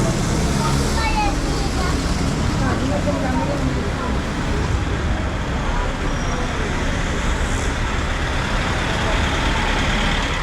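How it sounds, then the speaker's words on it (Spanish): Dense road traffic on a diverted street in Havana, Cuba, heading toward a fair on Calle Galiano: a continuous roar of passing cars, trucks and buses, loud and close, with voices mixed in. "Esta afluencia de tráfico se debe a que está desviado."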